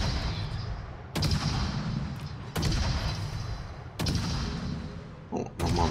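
Warship guns fire in World of Warships in a battle against a Richelieu: several heavy booming salvos at roughly even intervals, each with a long rumbling tail, amid constant battle noise and no speech.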